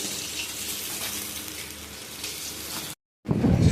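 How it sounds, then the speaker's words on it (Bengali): Pieces of carp fry in hot oil with a steady, close, hissing sizzle that holds evenly, then cuts out briefly before a louder burst of spattering resumes. "গরম তেলে মাছগুলো ভালো করে ভেজে নিচ্ছি লাল লাল করে"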